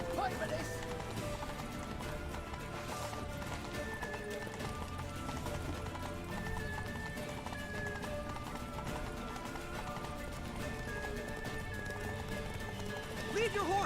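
Horse hooves clip-clop steadily at a gallop in The Witcher 3: Wild Hunt, with occasional neighs rising above continuous game music and voices throughout.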